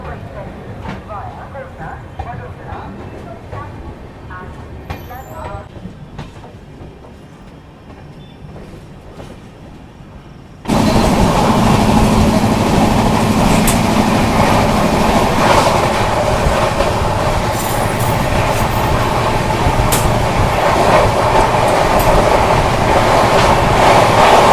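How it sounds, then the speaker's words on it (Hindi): Mumbai CR Rajdhani Express heard from inside a 3rd AC coach: a quieter stretch gives way to a loud, steady rush of wheels and rattling carriage noise as the train gets moving, with someone talking throughout. "मात्र 1 मिनट के अंदर वापस हमारी CR राजधानी एक्सप्रेस निकल चुकी है।"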